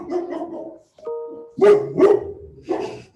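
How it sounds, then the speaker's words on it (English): A pet dog barks indoors, several loud close barks in quick bursts with a brief whine between them. "And now you can hear my dog."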